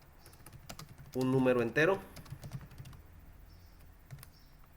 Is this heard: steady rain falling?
no